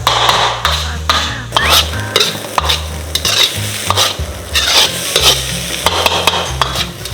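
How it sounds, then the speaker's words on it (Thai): Spicy stir-fried quail seasoned with fish sauce tossed in a hot pan, with steady sizzling and frying and repeated scraping and stirring strokes, loud and close, alone without talk. "แล้วก็คั่วไปเรื่อยๆเราคั่วเรื่อยๆ"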